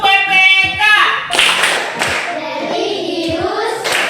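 A classroom group claps in a quick rhythmic pattern during an Indonesian clapping game while voices chant along, loud and close, with a few sharp hand slaps standing out.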